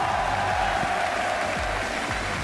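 A crowd at a night race in Barcelona applauds in a steady, dense wash of clapping, heard from a distance with a faint murmur of cheering underneath.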